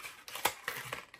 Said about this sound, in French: on va juste prendre les ciseaux et on va venir couper l'excédent